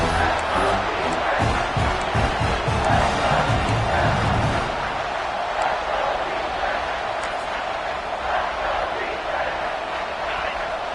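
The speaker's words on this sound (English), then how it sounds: "And here comes the noise. This crowd is trying to inspire this defense" Crowd noise in a football video game: a large crowd roars and cheers loudly, swelling then settling into a steady stadium din, with thumps and claps in the first few seconds.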